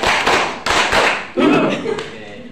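A classroom group claps a short patterned rhythm during a microteaching lesson: several sharp sets of hand claps with thumping taps, then a brief cheer-like vocal burst near the end, loud and close.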